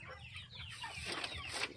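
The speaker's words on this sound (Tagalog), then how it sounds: "Itong mga manok." Native chickens on a farm cluck and murmur close by in a busy overlapping chorus, with low rumbling background noise underneath.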